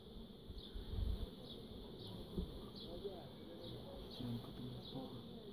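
Honeybees hum steadily inside an open hive during a brood-frame inspection, a dense close drone with faint recurring chirps and a few low thumps.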